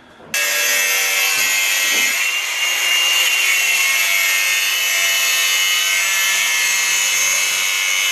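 A power tool saws through a piece of steel being cut into a bracket for a BMW E36 cooling system upgrade, a loud continuous bright grinding screech running steadily for most of the clip after a brief start.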